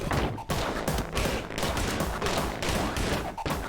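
Dense gunfire in a video game demo, rapid shots layered into a continuous loud barrage with no pauses, heard up close.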